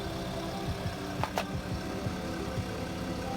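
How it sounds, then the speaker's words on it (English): An air compressor strains to fill the rear suspension airbag of a BMW X6, a quiet steady mechanical hum with faint rhythmic pulses and a couple of brief clicks, fairly close and low in level. "That is a compressor working extremely hard to fill that airbag up"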